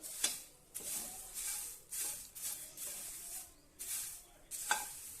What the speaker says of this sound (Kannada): ಇದು ಪ್ಯಾನಲ್ಲಾದರೆ ಅದು ಅದರೊಳಗೆ ಇರುತ್ತೆ ಚೆನ್ನಾಗಿ ಫ್ರೈ ಮಾಡ್ಕೊಳ್ಳಿ